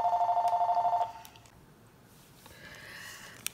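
A telephone rings with rapid pulsing trills for about a second, then stops, leaving faint room noise and a few small clicks.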